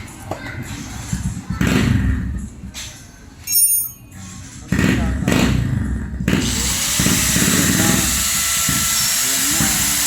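Angle grinder cutting through a bolt on a classic motorcycle, loud and close: bursts of harsh grinding and motor noise come in stops and starts, then a long sustained screeching cut.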